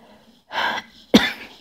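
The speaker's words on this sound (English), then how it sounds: "give me that coughing spell" Two harsh, breathy coughs come close to the ear, the second sharper and more explosive, with quiet pauses between.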